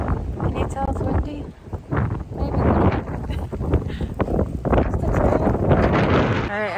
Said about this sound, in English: Okay, can you tell it's windy?